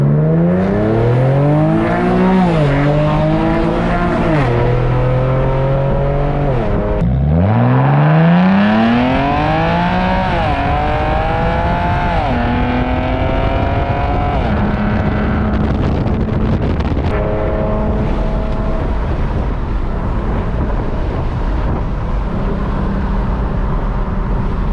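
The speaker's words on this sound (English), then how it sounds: "What it sound like to have resonator delete on the Infiniti G37." Infiniti G37X with the muffler and resonator deleted, heard from inside the car while driving. A loud, raspy exhaust roars through repeated revving and upshifts, pitch climbing and dropping between gears, with wind noise underneath.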